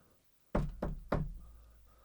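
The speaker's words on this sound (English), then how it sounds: "Then suddenly, there's a knock at the door." Three firm knocks on a door, evenly spaced and close, each with a short woody thud, played alone as a sound effect.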